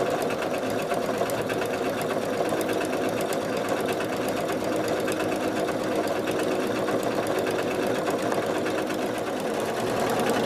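A sewing machine with a binder attachment stitches binding onto a heavy quilt, its motor and needle running in a steady, fast, continuous hum for the whole stretch with no talk over it.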